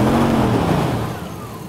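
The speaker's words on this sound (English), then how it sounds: "You can see if I rev the engine," A car engine is revved hard, a loud close roar whose pitch sweeps down and fades over under two seconds.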